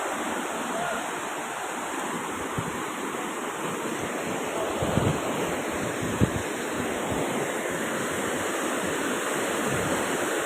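A mountain waterfall in a gorge at Ditumabo Mother Falls, San Luis, Aurora, roars as a steady broadband rush, loud and unbroken, with a few faint knocks and some wind.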